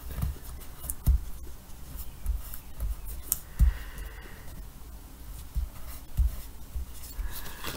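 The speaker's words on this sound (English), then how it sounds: "So let's go ahead and cut this out." Scissors snip and scrape through card stock for a beach-themed Mother's Day card, with a series of soft close cuts and paper rustles in an uneven rhythm and no speech.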